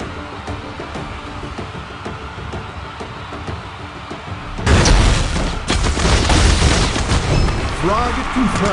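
Frag grenade blast in a video game: a sudden loud boom midway through erupts into a dense, sustained roar of debris and rumble, following a quieter stretch of background noise with faint talk.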